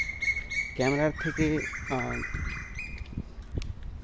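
Birds call in a quiet Malaysian village, several close harmonic chirps in a burst around the middle, then thinning out, with a brief spoken remark over a calm background.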